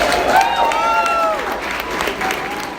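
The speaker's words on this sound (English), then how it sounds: "We can clap for him now." An audience at a Downtown Partnership event applauding the outgoing board chair, steady sustained clapping across the room with voices and a speaker heard over it.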